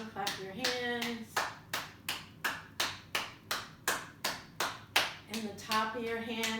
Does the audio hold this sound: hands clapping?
yes